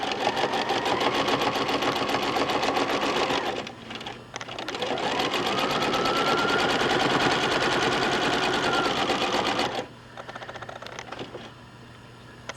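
Sewing machine stitching free-motion quilting on a log cabin fabric block, running in fast, steady bursts with a brief pause and a quieter stretch near the end, close up and without speech.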